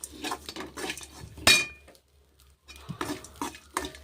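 Roasted nuts being stirred in a pan while cooking Tamil-style coconut rice, a run of scraping, clinking spoon strokes against the pan, one loud clang, a brief quiet gap, then more stirring, with no talk.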